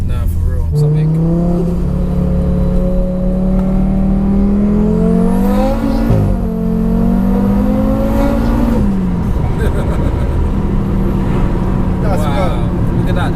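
A 700 bhp Audi RS3 pulls away hard, its engine note climbing steadily through the gears before one shift and a fade as it recedes, loud and close at first, with voices talking over it.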